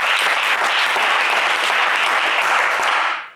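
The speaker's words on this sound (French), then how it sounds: "on applaudit Serge" Steady applause from a game show studio audience cheering contestant Serge, dense and continuous for about three seconds before fading out at the end.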